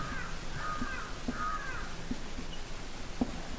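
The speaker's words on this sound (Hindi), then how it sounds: "कौआ बोल रहा है" A crow caws outdoors, a few harsh calls in a loose sequence over a steady broadband background hiss, moderately distant.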